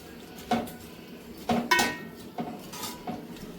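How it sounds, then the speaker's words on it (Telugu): A spoon stirs vegetable biryani mixture with fried onions in a pot, making about four close metallic scrapes and clinks at irregular intervals, with no talking. "సో ఇప్పుడు ఇవన్నిటిని మంచిగా మిక్స్ చేసేసుకొని"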